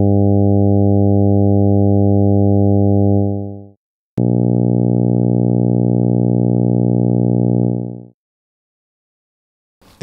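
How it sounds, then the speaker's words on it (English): Two synthesized buzzy tones, one built from widely spaced harmonics and one from densely packed harmonics, each held steady and loud for about four seconds, separated by a brief gap and a sharp click. "try comparing a tone with more spaced out harmonics and a tone with more densely packed harmonics"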